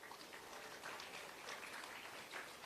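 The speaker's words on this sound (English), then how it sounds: "another round of applause to the wait staff" Applause for the waiting staff at the grand opening of a beach club in St Thomas: a dense, steady patter of many hands clapping, moderately distant and fairly quiet, lasting throughout.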